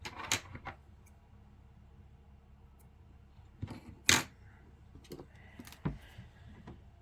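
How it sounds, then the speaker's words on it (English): Scissors snip through excess yarn in a few sharp, close clicks scattered among quiet handling, no talk. "And then I'm going to cut my excess yarn."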